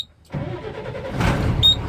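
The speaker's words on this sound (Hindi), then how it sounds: "ये गाड़ी का इग्निशन ऑन हुआ है और गाड़ी स्टार्ट करके अब आरपीएम का प्रॉब्लम सॉल्व हुआ है कि नहीं वो देख लेते हैं।" A Tata BS4 truck diesel engine cranks after a short silence and catches, settling into a steady, loud close-up idle with a brief high whine near the end.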